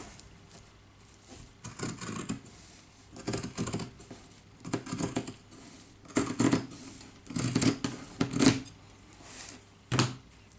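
Scissors snip repeatedly through jute or similar craft material while making a paper clip ornament, a series of crisp, close cutting bursts with short pauses between them.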